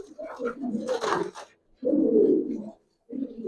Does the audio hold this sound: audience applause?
no